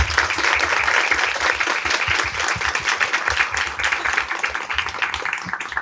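An audience applauds a guest on a stage program about inspiring women. Many hands clap together in a fast, uneven patter that stays loud at first and then thins slightly toward the end.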